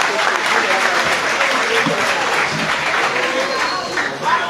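Audience at a camp ceremony in Ségou applauding steadily for several seconds, a dense, sustained wash of many hands clapping, close and loud, with faint voices mixed in.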